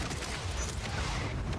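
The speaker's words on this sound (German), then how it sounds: "Jeder Schuss sitzt perfekt." Dense, continuous gunfire and explosions from the battle royale video game Warzone, a steady crackling barrage with booming low rumble throughout, no clear pauses and no speech.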